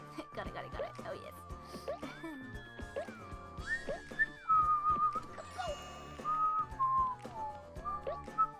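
A woman whistles a simple, wandering tune during a cozy island-building game stream, with clear held notes stepping up and down, sometimes breaking. Soft clicks and background game sounds run underneath.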